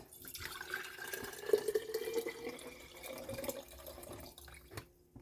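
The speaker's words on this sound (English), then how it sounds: "I'm going to use my jar that I had my broth in, and I'm going to add 4 cups of filtered water." Filtered water pours from a glass jar into a soup pot, a soft steady liquid stream with gurgling and splashing that rises and falls over several seconds before trailing off, quiet and close.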